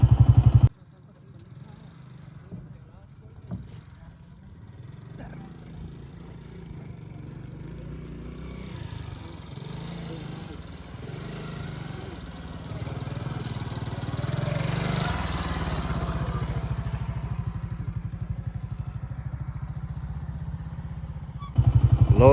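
A motorcycle engine idles and revs low and steady while the bike is loaded onto a wooden river boat for a crossing, a continuous rumble with clatter, growing slightly louder midway.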